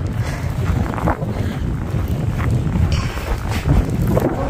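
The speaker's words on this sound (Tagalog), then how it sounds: "Malakas yung hangin" Strong, cold wind buffets and roars steadily against the microphone outdoors, gusting in uneven surges throughout.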